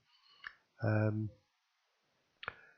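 Two sharp computer mouse clicks about two seconds apart, close and fairly quiet, with a short burst of voice between them.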